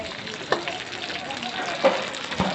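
Cicadas frying in hot oil in a home kitchen, a steady close sizzle with a few brief sharper pops and crackles spread through it.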